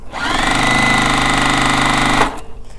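A sewing machine runs flat out for about two seconds, a loud, dense, steady mechanical whir close by, then stops abruptly.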